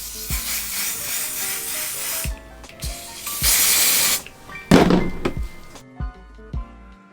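Several bursts of a pump spray bottle misting hair at the front of a wig, each a short hissing spritz, interleaved with soft thunks of the trigger, close by with no talking.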